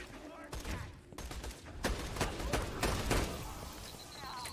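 Sniper rifle shots fired in the Borderlands 2 video game ring out as several sharp, loud blasts spaced apart, over a dense layer of game noise.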